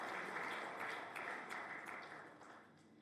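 Audience applause fills the hall at the opening of the Mwalimu Nyerere Foundation building, a steady wash of many hands clapping that stays fairly constant before slowly tapering off.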